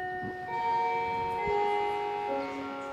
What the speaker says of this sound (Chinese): 下课铃声响起，考生鱼贯走出应试教室。